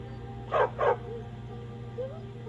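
A stray dog in the video game Skyrim gives two quick yelping barks followed by soft whimpers, fairly close and alone.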